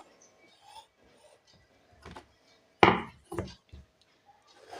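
Chalk or pencil drawn in a few short, scratchy strokes along a ruler across blouse fabric during tailoring, close and quiet, with soft handling noises in a hushed room.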